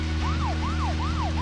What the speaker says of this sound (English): What are you putting on your siren?